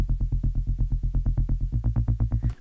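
Dry bass layer from a hip-hop style production, heard without effects as a rapid run of evenly pulsing low notes, steady and close with no voices.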